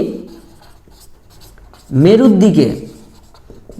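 Faint scratching of chalk or marker on a classroom board during a seventh-grade geography lesson, running steadily under a teacher's voice that swells in the middle.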